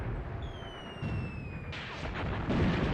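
A tank shell scores a direct hit in Graviteam Tactics: Mius Front, with booming impacts and a second sharp blast rolling through a steady din of distant battle noise and whistling tones.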